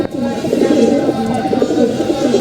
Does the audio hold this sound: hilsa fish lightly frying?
no